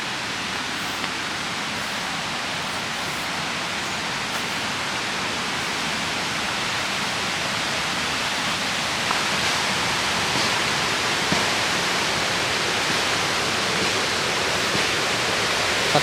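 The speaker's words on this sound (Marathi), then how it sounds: "पाण्याला भरपूर प्रवाह आहे" A strong stream of water rushes steadily along a footpath in Rajapur, a dense, unbroken roar close by with no voices over it.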